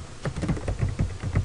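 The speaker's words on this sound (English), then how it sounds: "So that's me just typing this guy." Typing on a computer keyboard, a string of soft, close key taps in an uneven rhythm, fairly quiet and with no voices.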